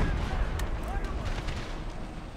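Cannons fire canister shot on a Civil War battlefield in a video game, a dense rumble of blasts and gunfire with sharp reports rising over continuous battle noise, while a voice talks over it.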